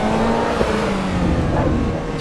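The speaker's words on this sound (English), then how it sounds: "an MX-5 wouldn't sound like that stock, so that's an exhaust and an induction" Modified Mazda MX-5 with an aftermarket exhaust and induction in the Assetto Corsa EVO racing game, a loud continuous engine drone with steady revs and slight pitch shifts, no voices.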